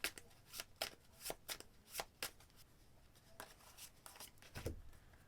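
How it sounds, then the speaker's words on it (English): A small deck of playing cards from a discard pile is shuffled for a solitaire tabletop game, giving a string of quiet, crisp riffling bursts close up in a still room, with a soft thump near the end. "shuffle it and then put 3 cards back"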